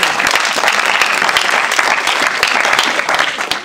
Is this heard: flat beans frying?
no